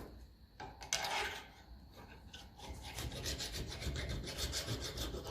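A metal file rasps back and forth on a part of a 1954 Ferguson TEF 20 diesel tractor, a continuous scratchy rubbing that grows denser and steadier toward the end.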